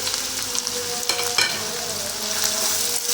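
Chopped onions, two of them, sizzle steadily in hot oil in a pan for a Hyderabad-style red chicken gravy, a dense continuous frying hiss with a few brief stirring scrapes, close and fairly loud, no talking.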